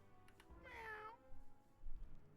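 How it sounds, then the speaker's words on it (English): A cat in the Wizard101 game gives one drawn-out, fairly loud meow, followed by soft low thumps and faint typing-like clicks, with no talking. "That's a grown cat meow"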